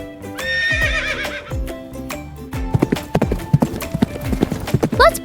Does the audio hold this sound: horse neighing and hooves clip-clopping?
yes